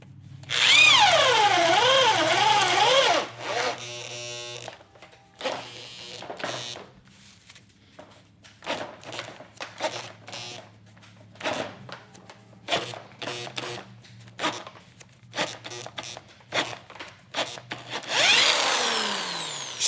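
A cheap Hyper Tough corded drill bores into wood with a 1/2 inch paddle bit. The motor spins up loudly at the start, then comes repeated short bursts of cutting with pauses between them, and a final long spin-up.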